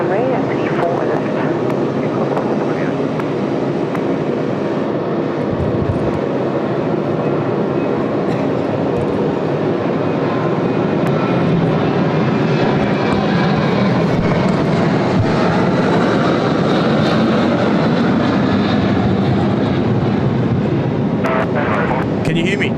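An Emirates Airbus A380 airliner departs Sydney Airport from runway 34 left, its jet engines a loud, continuous broadband roar across the whole stretch, swelling slightly in the middle as the aircraft climbs.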